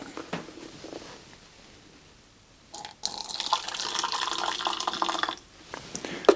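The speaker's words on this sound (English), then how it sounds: "I'm going to put in 100 millilitres of water" Warm water pours steadily into a measuring cup for a couple of seconds, close and clear, after a quiet stretch with faint handling noises.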